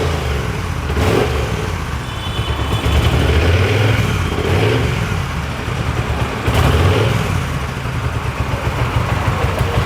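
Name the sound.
second-hand superbike motorcycle engine starting and revving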